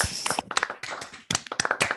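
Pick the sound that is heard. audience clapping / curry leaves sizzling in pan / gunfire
audience clapping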